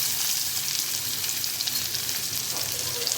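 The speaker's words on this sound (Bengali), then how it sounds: "পেঁয়াজগুলোকে সামান্য একটু ভেজে নিচ্ছি।" Chopped onions and black cumin seeds frying in hot oil, giving a loud, continuous hissing sizzle with faint crackles throughout and one short scrape toward the end.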